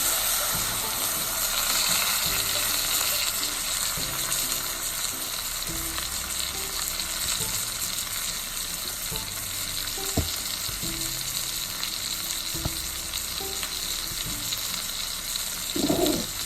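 Seasoned meat laid in a hot pan for a roast, with a steady loud sizzle and crackle of frying throughout and occasional clicks and scrapes of handling.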